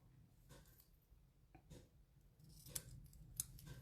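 Scissors cut sheer ribbon for a paper-craft card background with two crisp, faint snips near the end. A quiet, hushed room surrounds them.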